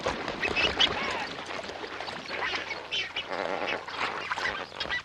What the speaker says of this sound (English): This is an oasis for both greater and lesser flamingos.